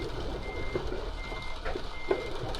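A Scania truck backs up in Euro Truck Simulator 2, its reversing alarm beeping steadily over a low engine rumble.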